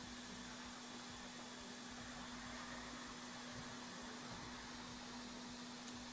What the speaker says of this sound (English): Go ahead and power this machine up.